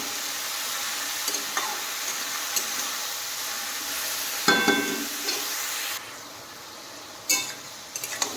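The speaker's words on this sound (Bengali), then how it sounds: "এখন নেড়ে দেবো আর নেড়ে চেড়ে এখন ভেজে নিতে হবে।" Sliced snake gourd with salt and turmeric frying in a pan makes a close, constant sizzle, broken by sharp scraping stirs and a clatter as it is turned, with no voices.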